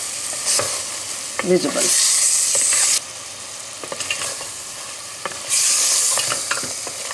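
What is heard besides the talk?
sautéing and stirring yogurt in rogan josh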